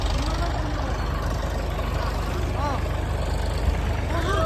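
A tractor idling in a farm field: a steady low engine rumble runs under nearby voices talking throughout.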